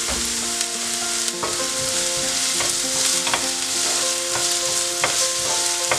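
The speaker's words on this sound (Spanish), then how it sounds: "Y lo vamos a dejar que se fríe." Chopped onion frying in oil in a pan over medium heat, a steady close sizzle with occasional scrapes and stirs of a utensil throughout, no talking.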